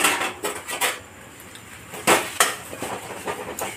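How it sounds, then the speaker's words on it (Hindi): A spoon stirs potato filling for aloo tomato paratha as it roasts in a pan. Irregular metallic scrapes and clinks of the utensil against the pan sound up close, without voices. "इसको ऐसे चला चला कर अच्छे से भूंजिए।"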